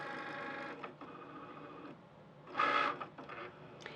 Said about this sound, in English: The registration marks are going to tell the Cricut where all of these pieces are.